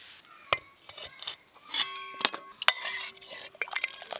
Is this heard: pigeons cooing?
no